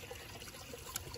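Water trickles and pours from a drain outlet on a seashore like a small waterfall, a faint steady splash heard alone for a moment.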